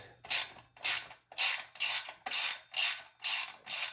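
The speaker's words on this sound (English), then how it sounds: "I'm going to tighten this one, which has a nut over on the other side." Ratchet wrench tightening a nut on an electric motor mount of an 88v Razor MX electric dirt bike powertrain, eight steady rhythmic clicking bursts close up with brief pauses between strokes, no talk.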